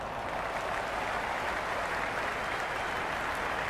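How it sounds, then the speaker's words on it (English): A cricket crowd in a Women's Big Bash League video game, Sydney Sixers against Hobart Hurricanes, roars and applauds in a steady, dense wash of noise that holds at an even level throughout. "Will you listen to that crowd? They are loving this."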